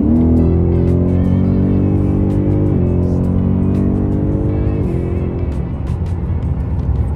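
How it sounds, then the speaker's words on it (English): A Ford Mustang 5.0 V8 engine drones loudly and steadily, its deep, rich tone shifting pitch twice as it changes gears, heard alone with no voices. "let's listen to that V8 engine again"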